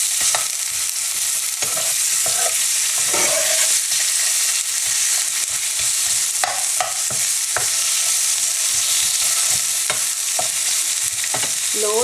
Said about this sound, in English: add some onion and just saute it a little.